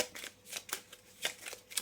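Oracle cards are shuffled by hand in a quick run of soft, papery riffles and slaps, close and fairly steady, with no voices.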